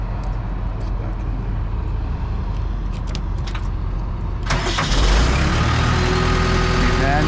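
A pump engine starts up partway through, shifting from a low idle rumble to a loud, steady running roar close by, with light handling clicks before it.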